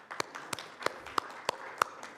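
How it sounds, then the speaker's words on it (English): A small audience at a media and civil society conference claps sparsely: about seven sharp, evenly spaced claps, faint and close, with no talking. "Can we clap for the only president in this house?"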